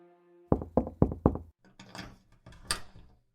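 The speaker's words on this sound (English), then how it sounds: "I tapped on the door and the jail matron let me in." Four sharp knocks on a door in a radio drama set in a jail, evenly spaced and close, followed by muffled movement and rustling as the door opens.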